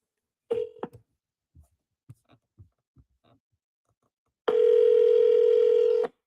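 A telephone call is placed: a few short dialing tones and clicks, a pause with soft taps, then a steady ringback tone sounding loud and continuous for over a second.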